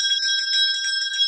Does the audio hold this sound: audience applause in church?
no